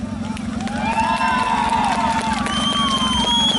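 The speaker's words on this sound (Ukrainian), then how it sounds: "Після присідання аплодисменти!" Crowd at the Moto Starkon 2016 motorcycle event on Neptune Day cheers and shouts steadily throughout, with voices rising over a constant low engine-like drone.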